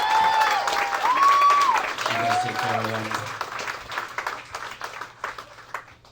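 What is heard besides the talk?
audience applause for the wait staff at a comedy club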